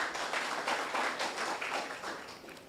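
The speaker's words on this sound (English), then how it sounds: "Give yourselves a round of applause." Audience applause at a student internship programme closing ceremony, a steady wash of many hands clapping at moderate volume, swelling and easing in waves without a break.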